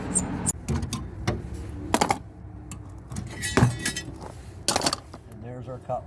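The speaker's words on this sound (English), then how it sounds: "Scribe our cut line." Sharp scraping scratches of a scribe marking a cut line on sheet metal of a 1977 Mercury Cougar quarter panel, several short close strokes with brief metallic clicks and someone talking in between.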